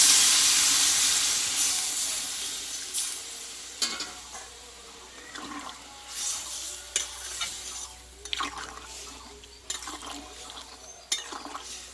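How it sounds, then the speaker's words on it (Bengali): Hot water hits a pan of raw banana curry with a loud, steamy hiss that fades over several seconds, followed by intermittent stirring scrapes and light sizzling. "এবার আমি জলটা এখানে ব্যবহার করব দেখো বন্ধুরা জলটাকে আগেই গরম করে নিয়েছিলাম"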